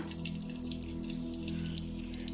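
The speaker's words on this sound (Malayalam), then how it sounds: "അപ്പം നമ്മളുടെ വെളിച്ചെണ്ണ ചൂടായി അതിലേക്ക് നമുക്ക് കടുക് ഇട്ട് കൊടുക്കാം" Mustard seeds drop into hot coconut oil and start to sputter, a quick, quiet run of small, irregular pops and crackles over a faint background hum.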